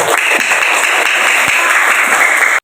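Classroom applause for a student named Fajar, a steady, loud wash of clapping from a group of pupils, sustained evenly for a couple of seconds before cutting off abruptly.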